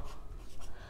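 A brief scratch of handwriting, with an equation for rotational kinetic energy being written out during a physics lesson, heard as soft continuous scraping strokes close by.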